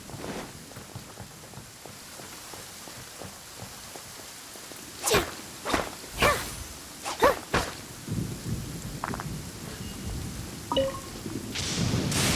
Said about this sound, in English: Thunder is kinda scary.